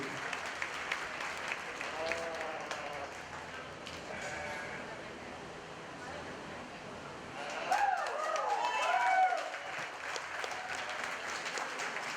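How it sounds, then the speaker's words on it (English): Applause from the audience at a county fair 4-H and FFA market lamb show, steady clapping throughout, with sheep bleating and a brief louder burst of crowd noise near the end. "let's give these young people one more round of applause for their hard work"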